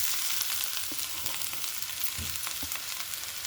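Pieces of cherry tomato sizzle and fry steadily in a pan for a Telugu pesarattu curry, with a soft continuous hiss and a few faint stirring knocks, no voices.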